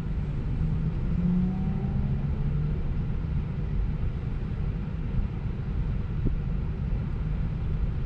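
A Tesla on Full Self-Driving creeps slowly forward, giving a steady low road rumble and faint cabin hum with no sharp events, continuous throughout.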